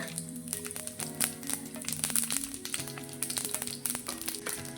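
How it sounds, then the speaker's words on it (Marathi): Mustard seeds and cumin sizzle and crackle in hot oil, a dense steady frying hiss dotted with sharp little pops throughout, close and fairly quiet, with no talking. "आता तेल टाक मोहरी टाकत आहे जिरा"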